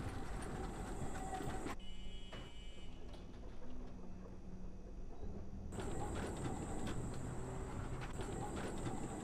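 A tram ride in the video game Abiotic Factor gives a steady, continuous mechanical rumble. The tone shifts partway through, then returns to a fuller, brighter rolling sound, with no voices.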